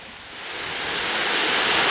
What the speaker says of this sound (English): One of the great features of Big Woods State Park is this great waterfall here coming off of Prairie Creek